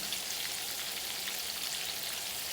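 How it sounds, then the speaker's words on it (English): Okra cakes fry in hot grease with a steady, dense sizzle and crackle, a continuous hiss with fine popping spread evenly throughout and no talking. "just putting it right in the grease and letting it fry up"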